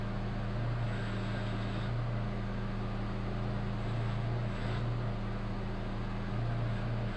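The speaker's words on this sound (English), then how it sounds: "Start the vehicle up. Turn the vehicle's wheel to the left, right, about 5 or 6 times." A 2010 Kia Rio engine running steadily while the steering wheel is turned left and right after a power steering hose replacement: a constant, loud low drone with a humming tone that swells slightly now and then, and no voices.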